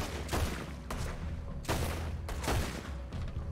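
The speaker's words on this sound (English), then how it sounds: "So I'm gonna take out my second pistol as well here." Pistol shots fired at an alligator in Red Dead Redemption 2 sound as several heavy booming gunshots in quick succession, each with a rumbling decay, loud and close.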